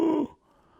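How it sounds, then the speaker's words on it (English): A single short sheep bleat from Minecraft sounds clearly, a quick tonal cry that cuts off abruptly and leaves near silence. "Couple of sheep."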